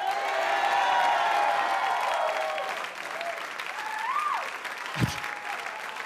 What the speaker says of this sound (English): What kind of cheer was that?